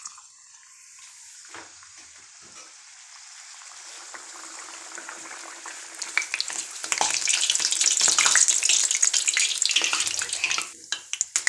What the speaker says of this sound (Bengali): তেল গরম হয়ে গেছে, লুচি বেলাগুলো আমরা তেলে দিয়ে দেব।